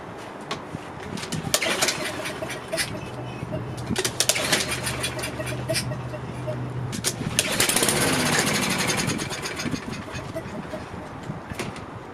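A Toro AWD mower engine is cranked repeatedly but fails to run, producing bursts of rough sputtering and rattling with a brief louder surge, close up, followed by quieter shuffling.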